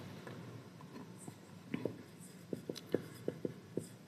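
Writing during a class 10 math lesson, heard as a run of soft, quick tapping and scratching strokes that grows denser toward the end, faint and close, with low background noise.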